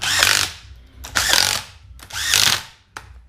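DeWalt 1/4-inch power driver running bolts home, three loud whirring bursts with ratcheting impacts, each ending in a short stop, close by.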